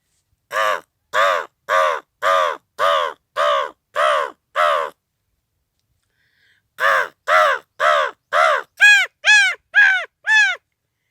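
A man imitates a crow's caw, giving two series of rhythmic, evenly spaced caws, eight in each run, separated by a short pause, loud and close.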